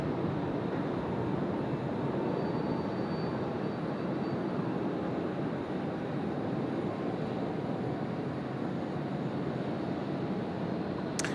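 A Malaysia Airlines widebody jet in oneworld livery, arriving from Kuala Lumpur, rolls out after landing on runway 16 right at Sydney Airport. A steady, distant broad roar holds evenly throughout with no talk.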